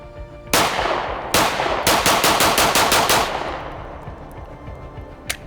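A 5.7 pistol fired in a quick string of sharp, loud shots, a few spaced apart and then several in fast succession, each cracking close by and ringing out in a short echo.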